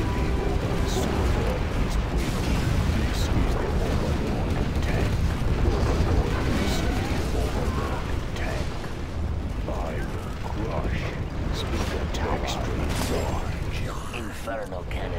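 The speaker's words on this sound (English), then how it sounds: "We have launched our nuclear missiles." Dense, rumbling nuclear missile explosions and booming blasts from C&C Generals Zero Hour pile up continuously, with voices talking over the chaotic din.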